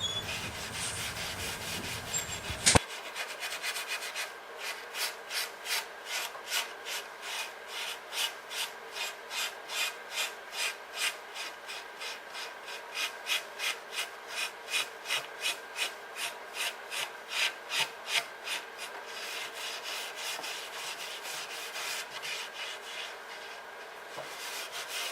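Fine 0000 steel wool rubbed back and forth over engraved cedar wood, a rhythmic series of about thirty close, scratchy strokes at a steady pace with no talking.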